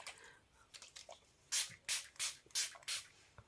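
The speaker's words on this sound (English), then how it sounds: "I'm going to spray my face" Setting spray misted onto a face in five quick, close hisses in a row, after a few softer clicks and rustles.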